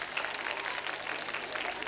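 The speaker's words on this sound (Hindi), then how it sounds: "और इन तालियों को लगातार बजाते रहिए" Steady, dense applause from a college audience at a quiz show in a women's polytechnic hall, continuous and fairly faint throughout, with no voices rising above it.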